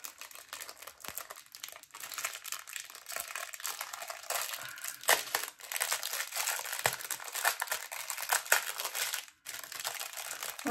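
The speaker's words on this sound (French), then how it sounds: "Ah, désolée pour le bruit du papier." Paper crumples and crinkles continuously while a diamond painting kit is unboxed, close, dry rustling and crackling in irregular bursts with brief pauses, no voices.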